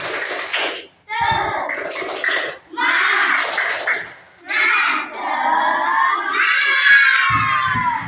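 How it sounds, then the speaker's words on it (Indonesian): Fourth-grade schoolchildren in a classroom perform a rhythmic 'tepuk semangat' clap chant, bursts of young voices shouting together with clapping in several loud phrases separated by brief pauses. "Silakan kita untuk tepuk semangat."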